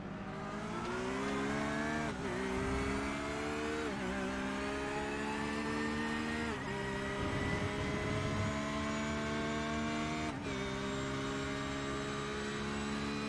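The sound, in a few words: Valkyrie XI GT3 race car engine in sim racing game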